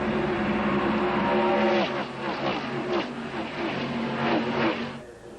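ARCA stock cars racing at Talladega in 1995, loud engine drones sweeping past in overlapping waves, the pitch dropping as a car blows by, with a faint commentary voice underneath.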